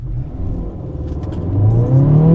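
A 2023 Acura Integra pulling hard in a 0-60 run, its engine note climbing steadily and growing louder as it accelerates, heard up close from inside the car with no talking.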